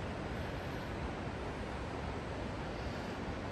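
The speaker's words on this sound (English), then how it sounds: "You can hear water down below" Water flowing far below at the Devils Bridge waterfalls, heard from a wooded viewing point as a steady, broad, even rush of moderate loudness, alone with no talk.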